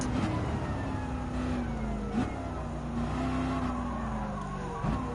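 Ferrari 512 BB race car engine in Gran Turismo 7 during a historic sports car race, a steady loud drone that rises and dips through gear changes and braking, heard alone.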